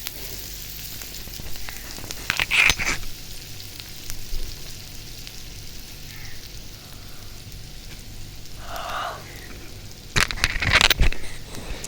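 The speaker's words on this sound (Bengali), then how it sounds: "এখন পেঁয়াজটা আমি ভেজে নিতেছি, 2টা মরিচ দিয়ে দিছি" Onions and two chillies fry in a pan while prawns are cooked bhuna style. A steady close sizzle runs throughout, with sharp bursts of stirring clatter near the start and again near the end.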